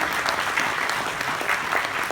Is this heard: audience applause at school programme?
yes